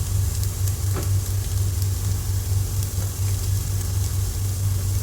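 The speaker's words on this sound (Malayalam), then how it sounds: "ഇനി നമ്മളിതിലേക്ക് അരിഞ്ഞു വെച്ചിരിക്കുന്ന പച്ചമുളക് കൂടി ചേർത്ത് കൊടുക്കാം" Chopped green chillies sizzle with sautéed onions in a pan for chicken curry, a steady close frying hiss with occasional crackles over a constant low hum.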